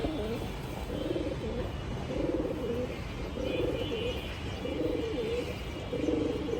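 Soft, low pigeon coos repeat in a steady rhythm, about once a second, over a constant background hum.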